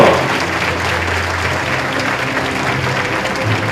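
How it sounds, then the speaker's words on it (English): An audience at the 2023 International Association of Judges annual meeting applauds during the opening ceremony, a steady, dense wash of clapping filling the hall throughout. "Our applause."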